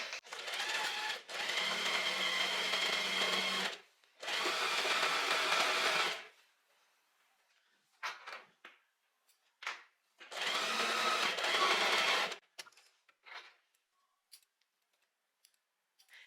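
A sewing machine stitches all the way around a dress seam in three close bursts of whirring, separated by pauses with scattered small clicks and handling noises.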